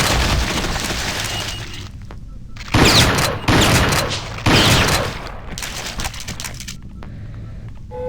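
Shotgun blasts in the Doom 2 total conversion Aliens: Eradication, fired at an alien warrior: three loud, close booms in quick succession, each with a short ringing tail, over a constant rumbling game ambience.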